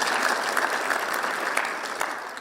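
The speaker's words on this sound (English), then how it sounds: "Why don't you give him a clap?" A crowd at a police ceremony at State House in Kenya breaks into sustained applause, a dense, even roar of many hands from a large gathering that holds steady from start to finish, with no voice rising above it.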